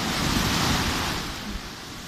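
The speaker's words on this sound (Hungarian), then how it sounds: "Képzeld el, hogy velem sétálsz ezen a gyönyörű" Sea waves wash onto a beach in a steady, full surf roar, a continuous broad rush that eases slightly toward the end, with no voices.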